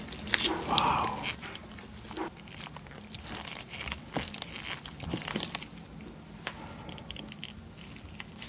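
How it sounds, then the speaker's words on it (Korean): Honeycomb topped with tapioca pearls, cream and Earl Grey ice cream being eaten up close: soft sticky chewing and wet crunchy bites, with quiet mouth sounds and faint background noise throughout. "오늘은 벌꿀집에 타피오카퍼를 올려서 먹을 건데 얼그레이 아이스크림이랑 크림도 준비를 해봤습니다."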